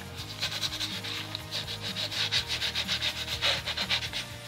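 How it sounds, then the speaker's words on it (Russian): A sponge scrubs limescale off a bathroom fitting in quick back-and-forth strokes, a close, steady rasping rub with an uneven rhythm and no speech. "вот я потерла немножко и все очистилось"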